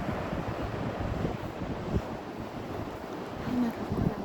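Sea waves wash onto an Argentine beach in a steady, rushing surf, mixed with gusts of wind buffeting the microphone, close and moderately loud, with no talking.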